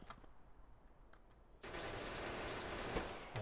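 Automated gun turrets in modded Factorio open up on attacking biters, a sudden dense burst of rapid machine-gun fire that holds steady after a quieter stretch of faint sporadic shots.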